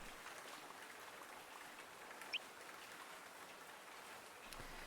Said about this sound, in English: Dia loves the sound of rain when she's indoors, especially the drum of water on metal